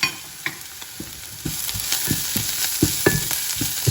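Ground coriander, cumin and red paprika sizzle in a frying pan while a utensil stirs them in regular, close scraping strokes over a continuous hiss.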